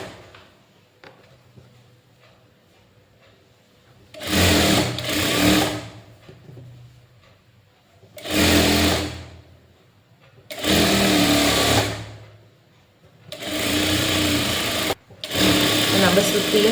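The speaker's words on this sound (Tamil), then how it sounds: "அப்படியே சுற்றியும் தையல் போட்டுக்கணும்." Sewing machine stitching around a puff sleeve, running in several loud bursts of rapid whirring, each lasting one to two seconds, separated by quiet pauses as the fabric is turned, with someone speaking softly between runs.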